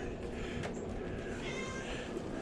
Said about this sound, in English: Now all the cats are out here.